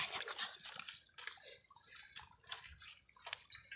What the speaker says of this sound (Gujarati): આ જો ને ઝરણું પણ વહે છે